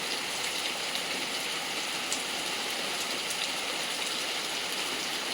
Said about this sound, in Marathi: तर पाऊस बघा कसलं लागता